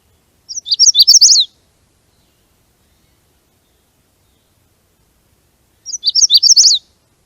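A magnolia warbler sings two short, bright, high-pitched phrases of quick rising notes, clear and close, separated by several seconds of silence.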